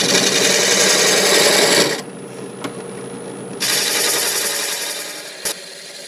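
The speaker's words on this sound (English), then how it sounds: "This little 3/8 bowl gouge, try to avoid taking too big of a cut." Mimosa wood being turned into a vase on a lathe with a 3/8 bowl gouge, a steady close scraping whir that cuts off for a moment and then resumes with another short tool contact.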